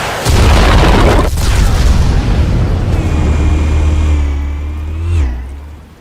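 Explosives detonating in Batman The Telltale Series video game: a loud booming blast that sustains into a roaring rumble, then trails off with a rising whine and a second swell before fading.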